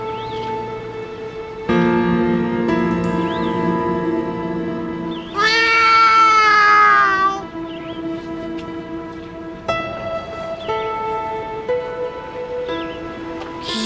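A person's voice imitates a cat, giving one drawn-out, wavering meow that rises above steady background music, with quieter tones before and after.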